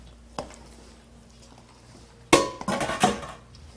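Oatmeal cookie batter being stirred in a bowl, liquid folded into dry ingredients: a faint knock early on, then a cluster of clattering scrapes and clinks of a utensil against the dish.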